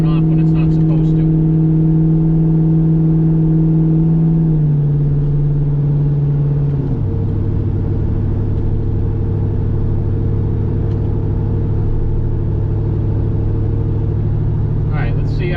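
Engine of a 2001 Chevrolet Silverado in for tuning, a steady low idle hum that drops in pitch in two steps, held loud and close with faint clicks near the start and end.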